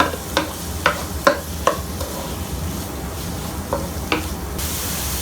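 About one large finely chopped onion sizzles in a pan, a steady frying hiss broken by several sharp scrapes and taps of a stirring utensil.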